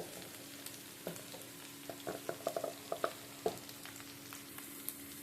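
Sliced onions and green chilies frying in oil in a pan in a home kitchen, a quiet steady sizzle with scattered small pops and stirring clicks, no talking.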